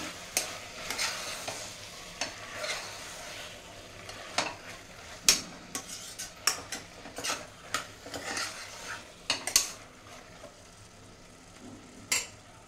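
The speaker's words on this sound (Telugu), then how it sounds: "ఇది 700 grams ఉందండి ఆలు, అది వేసేస్తున్నాను ఇక్కడ. మిక్స్ చేసుకుందాం." Stirring 700 grams of potatoes in a pan: repeated scraping, clinking spoon strokes over a low, steady sizzle, close and moderately loud, with irregular sharp clacks throughout.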